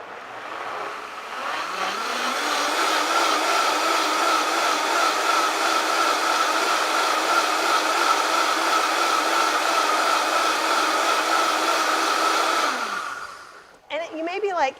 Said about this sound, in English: And then we're just going to puree it in.